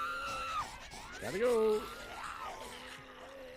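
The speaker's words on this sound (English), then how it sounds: "Oh, their screeches just never end." Infected creatures in the Days Gone video game screech and groan in harsh, wavering cries, fairly close and overlapping, while someone speaks briefly.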